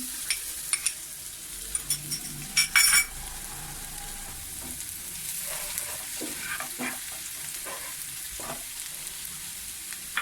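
Garlic frying in hot oil: oil sizzles and crackles steadily close up, with a few sharp clinks of a utensil against the pan early on and no talking.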